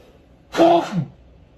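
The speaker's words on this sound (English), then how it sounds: "I'm gonna sneeze." A single close sneeze, voiced and breathy, bursting out for about half a second and tailing off into a short exhale, during a soft pastel drawing session in an art studio.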